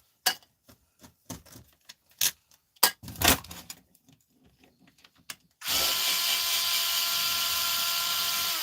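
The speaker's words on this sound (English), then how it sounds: "It's a Black & Decker type drill." Black & Decker type power drill switched on after scattered clicks and clunks of handling, then running steadily with a loud, close, continuous whine.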